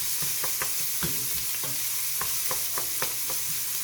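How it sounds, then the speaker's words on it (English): Vegetables for tomato basil soup sautéing in a pot, stirred with a utensil that knocks and scrapes in irregular clicks over a steady low sizzle, close and moderately loud, with no talking. "We're just going to saute them so they become opaque and soft."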